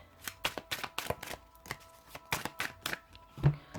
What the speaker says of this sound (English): I'm being told to shuffle one more.